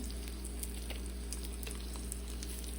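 Canned food tossed in hot oil with Creole seasoning, sizzling in a steady, fairly quiet frying hiss with occasional light pops and stirring, over a low hum.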